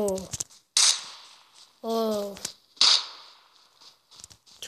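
Single shots from a Groza rifle in PUBG crack out one at a time, three sharp, loud bursts spaced about a second apart, with someone speaking in short phrases between them.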